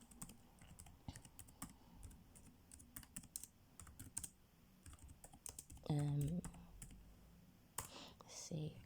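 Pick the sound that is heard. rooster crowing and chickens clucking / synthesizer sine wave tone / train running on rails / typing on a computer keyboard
typing on a computer keyboard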